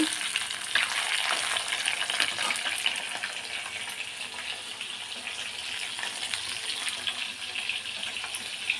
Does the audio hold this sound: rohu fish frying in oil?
yes